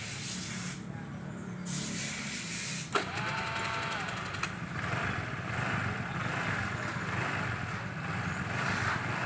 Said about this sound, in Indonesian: Kita tes sekali lagi apakah bisa hidup starter.